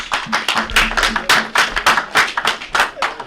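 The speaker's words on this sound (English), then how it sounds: "we want to give the candidates a big hand of applause." Audience at a board of directors election debate clapping for the candidates, loud close sharp claps in a quick uneven rhythm lasting the whole moment.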